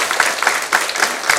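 An audience at a university event applauds, a dense, lively burst of clapping from many hands, close and loud for the whole moment.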